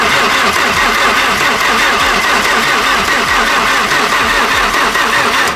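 The rebuilt engine of a Toyota RunX cranks continuously without firing, a loud, close, rhythmic churning that holds steady throughout with no catch or rev.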